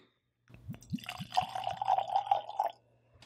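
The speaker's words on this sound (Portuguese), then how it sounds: "colocar na minha tacinha, fazer o glup, glup, glup" A short glugging pour of liquid into a glass, rhythmic gurgles rising in pitch as it fills, close and clear.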